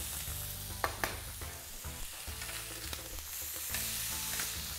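Asparagus sizzling in melted butter in a pan with salt and pepper, a steady close frying hiss under a low hum, broken by a few short stirring clinks.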